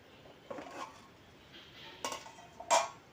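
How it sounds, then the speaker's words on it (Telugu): A spoon stirs eggplant tomato curry in a pan, giving a few soft scrapes and clinks of metal against metal, spaced out and fairly quiet. "మధ్య మధ్యలో ఇలా కలుపుకుంటే అడుగంటకుండా ఉంటుంది"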